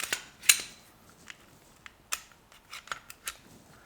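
Glock 19 Gen 4 pistol parts sliding and clicking back together during reassembly after cleaning, a series of sharp, close metallic clicks and snaps spaced irregularly over a quiet background.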